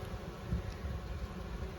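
Honeybees buzz at the entrance of a Layens hive during a spring inspection, a faint steady hum with soft rustling, no talk.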